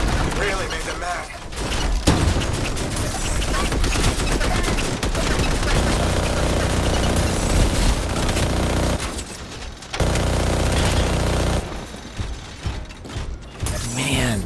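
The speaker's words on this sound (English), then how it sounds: "Man, this auto cannon is awkward because of it having to spin before firing." An auto cannon in the Anthem video game spins up and fires, a loud, continuous mechanical whirring with rapid rattling shots. The roar runs almost unbroken, with a few brief pauses in the burst.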